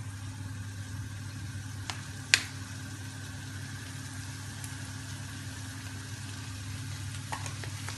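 Tomato masala frying in a pan for egg puff filling gives a soft, steady sizzle over a constant low hum, broken by a couple of faint clinks from stirring.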